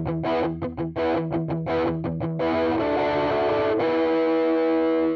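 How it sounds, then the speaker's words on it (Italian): An electric guitar with a humbucker pickup and light distortion plays chopped rhythmic chords, then rings into sustained strummed chords, loud and alone. "La quantità di distorsione non è tantissima, ma è giusta secondo me per questo brano"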